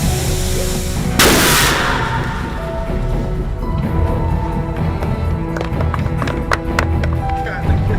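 A Jericho missile explosion in the Iron Man film, filmed at Lone Pine standing in for the mountains of Afghanistan: one sudden loud blast followed by a rumbling, crackling tail with scattered debris and impacts, with people talking throughout.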